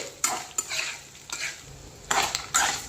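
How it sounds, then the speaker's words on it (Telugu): Grated fresh coconut frying lightly in a pan, with sharp spatula scrapes and clinks against the metal at irregular intervals over a soft sizzle, close and clear with no speech. "మన కొబ్బరి ఏమంత బాగా వేగనవసరం లేదండి, జస్ట్ కొంచెం వేగితే సరిపోతుంది."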